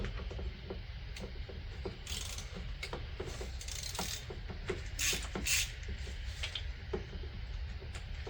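A ratchet fitted with a swivel socket loosening the oil filter housing on a Mercedes-Benz S550 W222, a faint run of rapid clicks with some metallic clinks, no voices.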